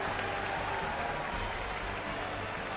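A boxing crowd applauds Evgeny Orlov after his fight, a steady dense roar of clapping and cheering that holds at an even level throughout.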